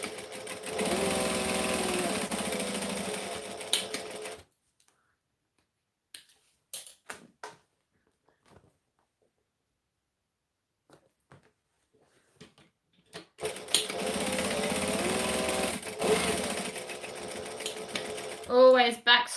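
Sewing machine stitching a fabric baby bag, running in two steady, fairly loud bursts at the start and end, separated by a long quiet gap broken only by a few soft handling taps.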